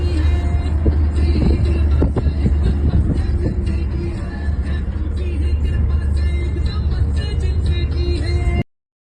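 Continuous low rumble and road noise inside a moving car on a family outing in Delhi, steady and loud for about eight seconds before cutting off abruptly.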